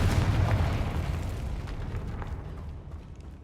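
Fire and explosion spells cast in Hogwarts Legacy, a loud booming blast at the start with a rumbling roar that slowly fades, plus a few faint pops.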